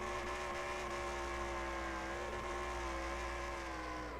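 Race cars run on a track, a sustained high engine whine holding steady and then dipping slightly in pitch toward the end, moderately loud and uninterrupted.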